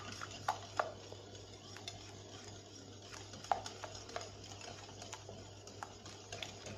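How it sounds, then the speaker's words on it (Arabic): A spoon stirs Turkish halva mixture in a pot, making faint, scattered taps and scrapes in an irregular rhythm over a low steady hum. "ونحركو عاوتاني"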